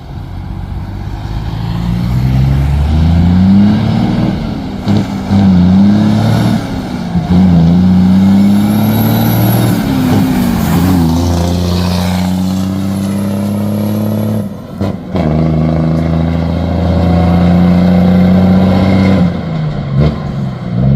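A Hino 500 P11 320 HP ten-wheel truck engine revs loud and close, climbing through three gears with steady rising drones and short breaks at each shift, nobody talking.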